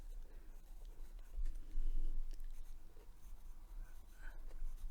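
An HB pencil drawing on paper, with close, faint scratchy strokes that come in uneven bursts, swell for a moment, and pause between lines.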